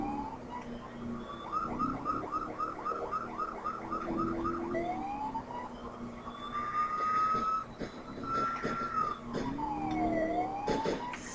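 A modded police siren wails in GTA IV during a midnight chase, cycling through fast yelp bursts and then slower rising and falling wails, loud and continuous over the game's engine and road noise.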